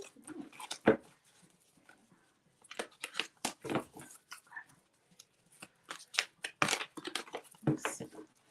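Tarot cards being shuffled by hand in a quiet room, giving soft, irregular riffling and shuffling bursts with pauses between them and no talk over it.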